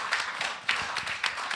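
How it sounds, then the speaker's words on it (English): An audience claps at a live comedy show, a short, lively patter of many hands with a few louder accents, heard on its own. "Clap for that."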